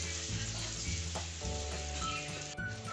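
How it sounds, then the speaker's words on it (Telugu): Ginger garlic paste fries in a pan for chicken fry, with a loud, continuous close-up sizzle and a few stirring scrapes. No one speaks. "అల్లం వెల్లుల్లిపాయ పేస్ట్ వేగిపోయిందండి"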